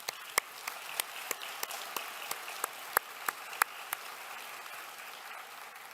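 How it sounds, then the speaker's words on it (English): Thin, sparse applause at a university spring convocation, with scattered distinct claps standing out over a soft, steady patter of hands across the hall. "Let's give them all a round of applause"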